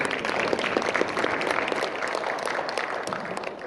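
Sustained applause from a conference audience after a presentation on dual-fuel ship technology, steady dense clapping at moderate level throughout with no break.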